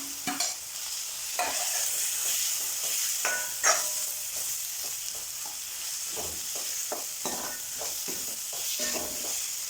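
Mashed potato stirred in a hot pan for chicken cutlets, with steady close sizzling beneath repeated scraping and stirring strokes that come irregularly throughout, with no voices.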